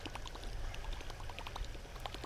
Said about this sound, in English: We're slinging the water chopper.